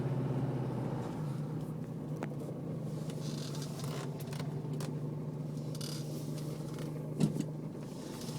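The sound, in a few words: 2006 Jeep Liberty CRD diesel engine running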